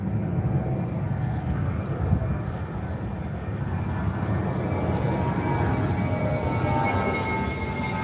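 A propeller airplane passes overhead with a loud, steady broadband engine roar that holds throughout, with no talk.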